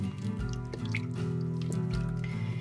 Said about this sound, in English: So you're gonna stir it all up.